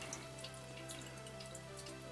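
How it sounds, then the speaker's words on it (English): Meltwater from a rain harvesting first-flush tube runs out in winter, a soft continuous trickle with faint drips under a steady low hum, quiet and without speech. "You can see the water flowing right there."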